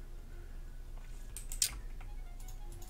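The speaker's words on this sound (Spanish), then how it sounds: "se escucha el clic del ratón ahí a tope" A faint, sharp computer mouse click or two stands out against quiet background hiss, close by and brief.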